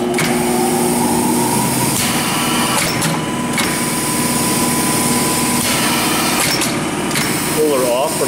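A Burr Oak M5-STCO straight tube cut-off machine with hitch feed and straightener runs continuously, a loud, close mechanical drone with periodic clunks from feeding and cutting cycles, and brief voices over it.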